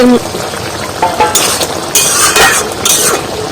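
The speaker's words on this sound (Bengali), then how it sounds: "ডিমটা একটু ভেজে নিয়েছি" An egg fries in a pan for an eggplant curry, a loud close sizzle broken by stirring scrapes and a few metal clinks against the pan.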